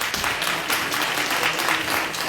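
Audience members at a school board and county commission candidate forum applaud the candidates, a short burst of fairly loud, dense clapping from a room full of people.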